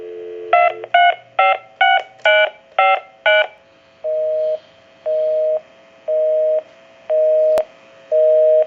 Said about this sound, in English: We can call my number and it'll be busy.